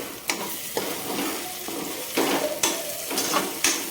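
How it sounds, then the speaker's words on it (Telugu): Onions frying for a prawn curry, stirred in a pan with a spoon: a steady close sizzle with repeated scraping strokes and light clinks against the metal, no voices. "మూత ఓపెన్ చేసి అడగంటకుండా మళ్ళీ ఈ ఆనియన్స్ అంతా బాగా కలుపుకోవాలి"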